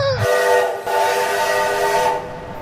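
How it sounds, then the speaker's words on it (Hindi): A train at a village railway level crossing in Gujranwala, Pakistan, gives a loud, sustained whistle for about two seconds over a low rumble, then it fades out. "अब यहाँ हमें ट्रेन का मज़ा लिया जो गुजर रही थी।"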